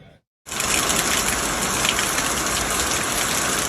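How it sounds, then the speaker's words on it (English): Heavy monsoon rain pours down in a dense, steady roar after a brief silent start, with no voices. "Monsoon rains, thunder, and lightning followed"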